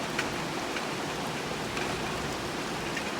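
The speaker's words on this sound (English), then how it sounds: "Hopefully we get this kind of rain for at least an hour" Steady rain falls on a garden, an even soft hiss with faint scattered drops and no voices, unchanging throughout.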